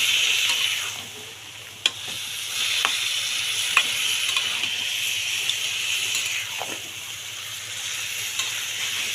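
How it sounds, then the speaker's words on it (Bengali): Bamboo shoot curry stirred in a hot pan to work in the spices, a steady close sizzle with occasional scraping clicks of the spoon, no talking. "ভালোভাবে নেড়েচেড়ে মশলাটা মিশিয়ে নিতে হবে।"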